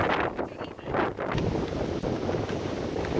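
Steady wind rushes and buffets the microphone aboard a sailboat under sail, a continuous loud roar with slight gusting swells and no talk.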